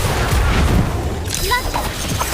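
Incendio fire spell cast in the mobile game Harry Potter Magic Awakened, a dull boom followed by a whooshing burst, with game voices and effects underneath.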